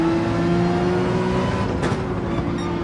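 Race car engines in Gran Turismo 7 drone steadily as a tight pack of cars runs close together, a continuous loud whine with a brief swell near the end.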